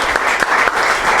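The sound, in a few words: audience applause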